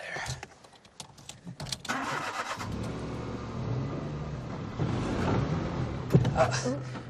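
A car engine starts and runs at a steady idle, then revs as the car tries to pull away with its handbrake still on, while people talk over the engine throughout.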